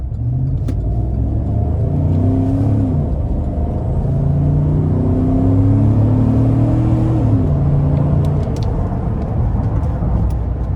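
A 2013 Cadillac Escalade Platinum SUV engine rumbles and revs as it accelerates onto an interstate, pitch climbing through gear changes, steady and close with road noise underneath.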